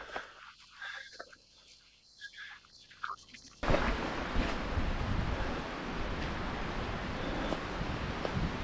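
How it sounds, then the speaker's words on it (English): Wind blowing outdoors in Glencoe on a cold autumn day: quieter rustling at first, then a sudden surge of loud, steady wind noise buffeting the microphone. "It's quite windy today,"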